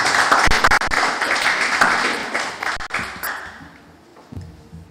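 Applause from an audience at a women's and gender rights consultation meeting, dense clapping that is steady at first and then thins out and fades toward the end.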